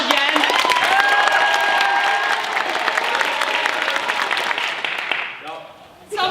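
An improv show crowd on a 2019 senior night claps loudly and continuously, dense applause with some cheering mixed in, then it dies down sharply and briefly picks up again right at the end.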